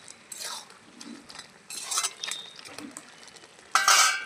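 A spoon scrapes and stirs pumpkin shoot greens with fried lentil bori in a pan, coming in several short, close bursts of scraping with quieter gaps between them.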